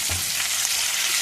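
Hot tempering oil frying for a tomato and red chilli roti chutney, a dense steady sizzle heard up close with a faint low thump at the start.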